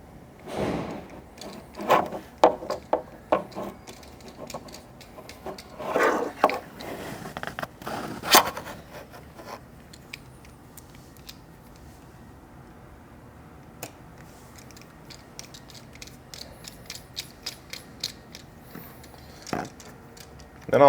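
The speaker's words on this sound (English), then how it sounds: "we'll use a Phillips head screwdriver to put these two screws back in" Phillips head screwdriver driving two screws into the plastic grinder chute cover of a DF83 coffee grinder, close scraping and ticking strokes in uneven bursts, busier early on and sparser later.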